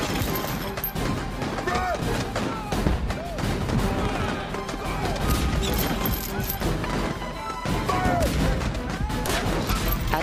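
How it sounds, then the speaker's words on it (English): Repeated heavy booms and crashes of cannon fire battering a church during the 1837 Canadian rebellion pound away continuously, mixed with clattering impacts and faint voices in a dense battle din. "The church holds out against the cannon fire for 2 hours."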